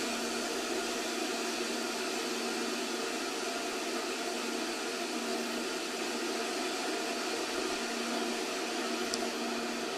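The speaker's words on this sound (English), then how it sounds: "Felix is depressurizing the Stratos capsule to ambient outside barometric pressure" Red Bull Stratos capsule depressurizing to ambient pressure at 127,900 feet altitude: a constant, loud, broadband hiss of escaping air that holds steady for the whole stretch.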